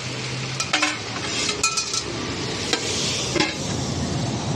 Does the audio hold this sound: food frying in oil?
yes